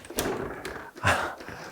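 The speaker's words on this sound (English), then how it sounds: "So we have a door here that's designed not to look like a door." A hidden door built to blend into the wall of an 1840s country house room swings open with a couple of short, close creaks and soft knocks. No one speaks.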